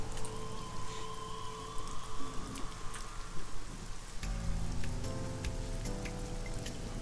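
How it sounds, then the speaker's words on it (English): Steady rain patters across surfaces in a video game, with scattered sharper drips and a low rumbling bed beneath, continuous throughout without any voices. "Paracel's getting pelted by the rain."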